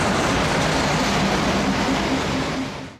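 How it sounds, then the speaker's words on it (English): A train on the Gulbene–Aluksne narrow-gauge railway in Latvia arrives, producing a loud, continuous rumble and rolling noise with a steady low hum, close by, that ends abruptly after about three seconds. "Here comes the afternoon train."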